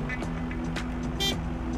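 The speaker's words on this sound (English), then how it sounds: "honk honk back to you" Car horn in Food Truck Simulator, a couple of short honks over steady traffic and engine hum.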